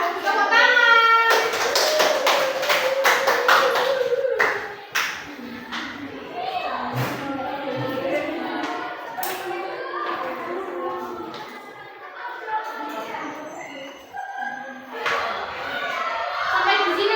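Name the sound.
children clapping hands in classroom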